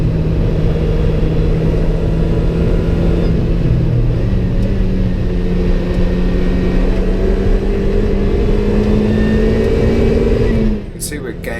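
A Lotus Elise Cup 250 at full throttle on a race track in 5th gear near 120 mph, its engine a loud, sustained rising drone from onboard, followed at the end by a brief clattering shift.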